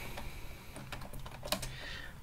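Rapid typing on a computer keyboard, a steady run of light clicking keystrokes with irregular rhythm, close and clear over a faint background hum, with no talk.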